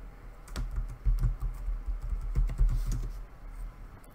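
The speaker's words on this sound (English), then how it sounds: "when I'm typing, I kind of have to focus a little bit more" Quick bursts of computer keyboard typing, clear close keystroke clicks in an uneven rhythm, alone without any talking.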